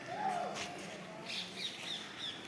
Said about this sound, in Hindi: मोर, तोते, जिनकी आवाज़ें आप अच्छी तरीके से सुन सकते हैं।